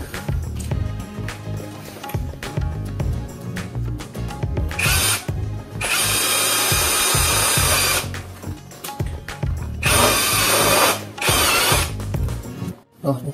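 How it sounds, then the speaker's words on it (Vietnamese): A power drill bores a hole for a hazard-light switch on a Honda Dream motorcycle, whining loudly in two sustained bursts, with ratcheting mechanical clicks and handling noise between them. "khoan một cái lỗ như này rồi"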